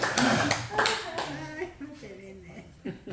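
Brief clapping from an audience at a church health lecture on joint care, a short burst of hand claps at the start that fades as a voice begins talking.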